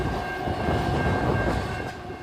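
A downtown train rolls past near a tavern, its rumble and rail clatter steady and loud for the whole stretch, with a sustained horn tone riding over the noise.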